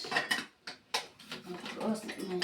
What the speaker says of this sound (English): I close my pressure cooker.